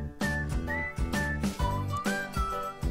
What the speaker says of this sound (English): it does unnerve me slightly when his whistling gets closer and closer and closer, a bit like it is now